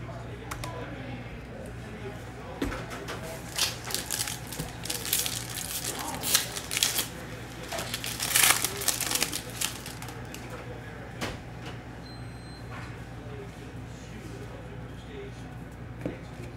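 Foil packs of 2021 Mosaic football hobby trading cards ripped open, with crinkling, tearing bursts scattered through the stretch under ongoing talk.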